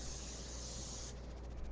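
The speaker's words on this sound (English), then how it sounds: "I like to use this Aussie Scrunch Catch the Wave hairspray" Aussie Scrunch Catch the Wave flexible-hold hairspray sprayed onto hair, one continuous close, loud aerosol hiss running throughout with a slight change in texture partway through.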